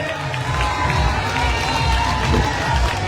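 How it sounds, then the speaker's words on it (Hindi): A large crowd cheers and claps in a dense, continuous roar, loud and steady throughout, with shouts mixed into the noise. "जोरदार तालियों से अभिनंदन करें, स्वागत करें।"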